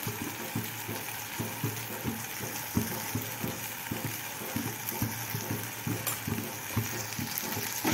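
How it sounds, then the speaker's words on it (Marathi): Eggplant curry with turmeric, red chilli powder and masala is stirred in a frying pan. A steady sizzle runs under rhythmic scraping strokes that repeat about twice a second. "हे चांगलं हलवून घ्यायचं."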